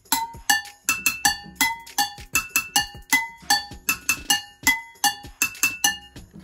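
Chopsticks beat a repeating rhythm on household objects at home, a close, bright run of clinks and knocks alternating between a deeper hit and a higher ringing tone, in steady groups with no talk.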